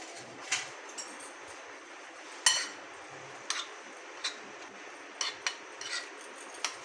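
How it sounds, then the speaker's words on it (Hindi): Spoon stirring a chicken marinade with food colouring in a bowl, a few scattered clinks and scrapes, quiet and close with no talking. "तो मैं इसको ज़रा मिक्स कर दूँ।"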